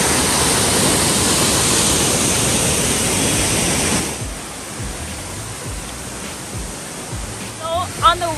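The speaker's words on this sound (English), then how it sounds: "Just to hear the sound of the water make me relax." A waterfall in Khao Yai, Thailand, gives a loud, continuous rushing roar for about four seconds, then drops to a softer wash of water in the background, with faint voices near the end.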